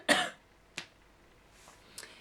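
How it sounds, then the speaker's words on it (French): A single sharp, close cough bursts out, followed by two fainter short coughs or throat sounds in an otherwise quiet room. "excusez-moi, je vais tousser."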